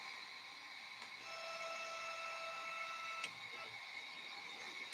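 Neje Master 2 laser engraver running its homing cycle, with faint steady stepper-motor whine and tonal hum as the head moves and a small click partway through, quiet and alone.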